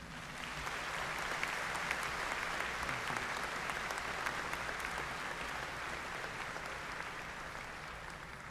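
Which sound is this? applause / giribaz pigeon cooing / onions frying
applause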